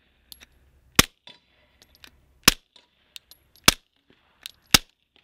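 A Glock pistol fires 147 grain rounds into a dirt berm at an outdoor range: four sharp, loud shots at irregular intervals, with faint clicks and handling noises in between.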